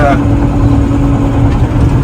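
Heavy trucks cutting an access road at a construction dig, their engines idling and rumbling low and steady throughout, with a voice talking over the machinery.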